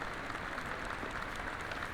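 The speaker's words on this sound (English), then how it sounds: "Why are you guys all clapping?" Faint, steady clapping from a crowd in the horror video game Detention, a soft continuous patter at a distance with no voices over it.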